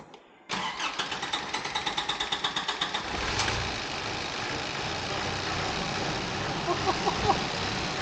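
In a workshop, a car engine with brake cleaner sprayed into its air intake hose cranks in a fast, even series of beats for about two and a half seconds, then catches and runs steadily nearby.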